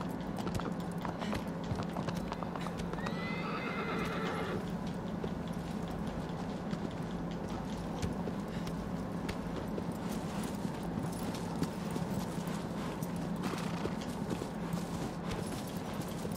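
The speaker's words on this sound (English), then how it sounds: "Horse, stop moving." Hooves clip-clop steadily at an even walking pace in the video game Shadow of the Colossus, fairly faint, with a brief whinny early on over a low background hum.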